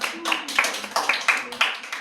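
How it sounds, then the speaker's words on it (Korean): A congregation claps hands in a church service, a steady run of sharp claps carrying over a low background hum, fairly close and even in strength. "박수 한번 하시죠"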